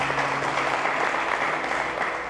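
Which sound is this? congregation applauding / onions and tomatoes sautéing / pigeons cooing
congregation applauding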